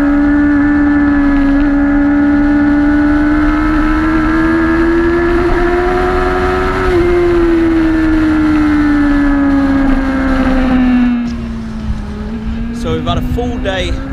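A tuned motorcycle revs hard while being ridden on the Cadwell track, a sustained rising and falling engine whine that holds high through the rev range, then drops and eases off near the end.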